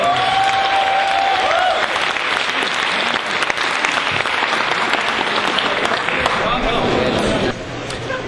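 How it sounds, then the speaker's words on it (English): Audience applause for panelists at a theater panel during a gaming expo, loud dense clapping from a large crowd running continuously, mixed with cheers and crowd babble, dropping slightly near the end. "Let's give them a round of applause"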